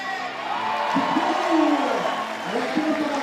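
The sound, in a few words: crowd cheering at a bouldering competition as Mejdi Schalk tops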